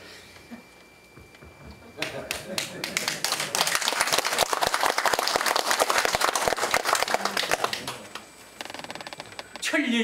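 An audience at an academic conference applauds, a dense burst of clapping that swells, holds for several seconds, then thins out, following quieter room sound.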